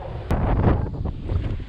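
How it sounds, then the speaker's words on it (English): Gusty outdoor wind on a coast in Indonesia buffets the microphone with a low, rumbling roar and a sharp pop early on, no voices. "Man, it's so windy out there."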